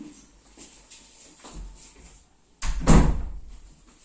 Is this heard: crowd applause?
no